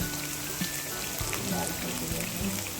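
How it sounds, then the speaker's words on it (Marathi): Thick mutton curry bubbles in a pot, giving soft irregular pops and plops over a steady background hiss. "उकळी येते येते"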